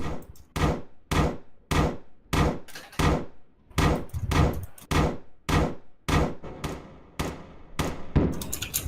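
Repeated gunfire in a Roblox game, about fourteen loud, evenly spaced shots cracking out roughly every half second over nearly nine seconds, with no voices.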